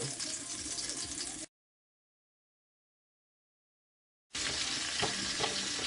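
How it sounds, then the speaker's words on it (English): Sticky ribs searing flat side down in hot oil, a dense frying sizzle heard close, cut out by a stretch of silence before the sizzle returns with a few clinks. "We're going to start to sear this."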